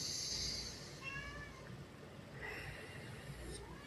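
Close, loud meows from a cat, a few drawn-out cries over a low room hum with faint background sounds.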